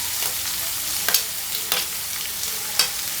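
Curry leaves frying in a pan for a gizzard curry, a bright continuous sizzle with a few sharp crackles and stirring scrapes spaced through it, close and clear with no talking.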